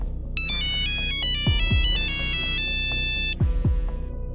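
A melodic electronic phone ringtone plays, a repeating chiming tune heard close and clear with no talking.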